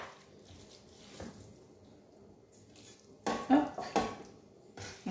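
A spoon scrapes and taps against a baking dish while spreading minced meat and vegetables for hachis parmentier, soft squishing early on, then a cluster of sharper clinks and scrapes near the end.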